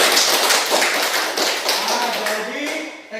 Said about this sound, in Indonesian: tepuk tangan dulu buat Sidani